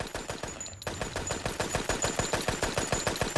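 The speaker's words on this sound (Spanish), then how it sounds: "Lo más peligroso de la tierra de nadie era la ametralladora fija." A fixed machine gun on a First World War front rakes across no man's land in a long, rapid, evenly spaced burst of shots, loud and close, after a brief lull.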